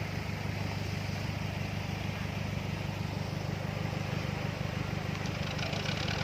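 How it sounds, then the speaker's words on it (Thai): A tractor works on building a dirt road in rural Thailand, its engine holding a steady, rumbling mid-pitched drone from nearby that runs unbroken throughout. "รถไถกำลังทำกำลังทำทาง"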